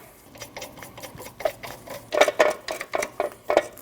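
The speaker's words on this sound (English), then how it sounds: "Now tighten down all your lug nuts." Lug nuts are tightened onto the front wheel of a Nissan NV2500 van with a ratcheting tool, giving a run of quick, close, uneven clicks that grow louder and denser toward the end.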